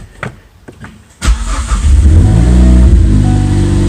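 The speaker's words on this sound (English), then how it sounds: "It starts right up." A turbocharged Ford Focus ST engine cranks and fires up after a starter replacement, a few faint clicks giving way to a sudden loud catch and a steady, close idle rumble.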